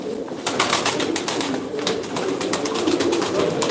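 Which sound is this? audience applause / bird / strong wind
bird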